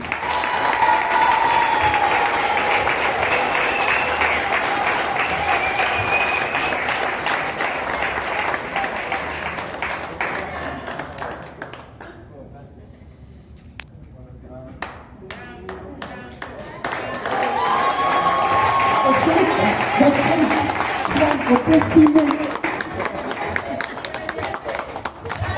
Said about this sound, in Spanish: Quiero que le demos un gran aplauso a don Franco París.